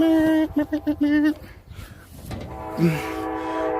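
A train passes nearby, its horn sounding in several short rhythmic blasts, followed by the rumble and clatter of the cars; a brief voice and a dog-like sound appear near the end.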